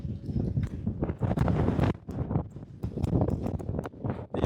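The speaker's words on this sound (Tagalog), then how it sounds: "Sobrang lakas ng hangin." Strong gusts of wind batter the microphone outdoors in Guernsey on Christmas Eve, in loud, rough, continuous buffeting with brief lulls.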